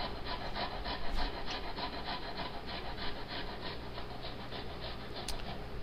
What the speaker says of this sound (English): I'll be using my microplane today because I really don't feel like going through the trouble. And we'll just grate it into the butter directly.